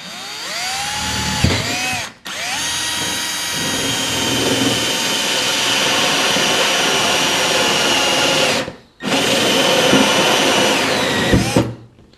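A 1.5-inch hole saw on a power drill cuts into a plastic water tank in a van conversion, whining loudly and steadily in two long bursts separated by a short pause, then stopping abruptly.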